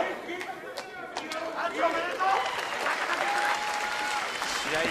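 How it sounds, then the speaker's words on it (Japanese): A pro wrestling arena crowd applauds after a tag-team match, sustained clapping and crowd noise with voices and cheers mixed in, a commentator talking over it. "その姿に大きな拍手です"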